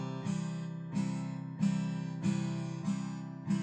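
Acoustic guitar strumming open cowboy chords, six bright strokes spaced evenly about every two-thirds of a second, each ringing out fully before the next.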